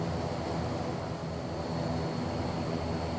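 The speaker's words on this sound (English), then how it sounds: "This plane adopted Rolls-Royce Dart turboprop engines." Cabin drone of a Fokker F-27 with Rolls-Royce Dart turboprop engines in Microsoft Flight Simulator 2024, a steady, dense, unbroken hum with faint tonal whine, continuous throughout.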